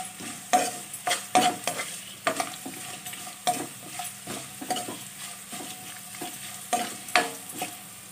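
Garlic, dried red chillies, curry leaves and cumin sizzle in hot oil as a tempering for a stir-fried amaranth dish, and a spoon stirs them with repeated scraping strokes against the pan over a continuous crackle.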